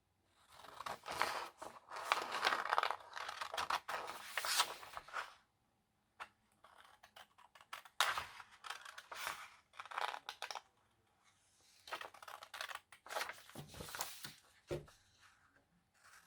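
Scissors cut through patterned paper for jeweler's envelopes, close quiet bursts of snipping and rustling separated by short pauses, with light paper handling noises.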